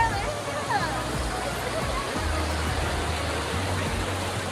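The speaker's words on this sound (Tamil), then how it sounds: "இப்போ ஃப்ரெண்ட்ஸ் பார்த்தீங்கன்னா இந்த மலையிலேருந்து இந்த தண்ணி வந்துட்டு இருக்குதுங்க." Water flows down from a mountain near Thirumoorthy hills dam, a steady broadband rushing close by with faint low rumbles, continuous throughout.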